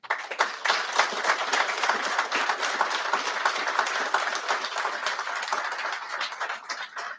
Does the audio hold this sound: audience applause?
yes